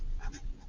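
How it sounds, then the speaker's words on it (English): Pen or pencil writing on a blank notebook page during a classroom lesson, a short close scratching stroke with a few quick bursts, heard alone without talk. "write the word"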